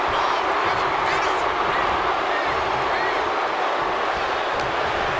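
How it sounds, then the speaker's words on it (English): A wrestling arena crowd at an Elimination Chamber event roars steadily as a dense, continuous wall of cheering and hubbub, loud and unbroken throughout. "Just listen to this crowd."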